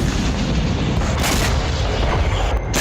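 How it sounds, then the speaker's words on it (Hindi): Rockets launched by Hamas from Rafah, heard as a loud, dense roaring blast with a couple of sharper booming bursts, continuous and close, no voices. "इस वीडियो में देखिए, राफा से हमास ने 2 बार रॉकेट दागे और इजरायली सैनिक पोस्ट को खाक कर दिया।"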